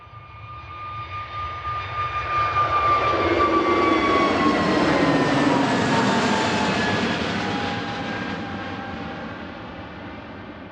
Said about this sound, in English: EasyJet on the roll here, off to Porto in Portugal.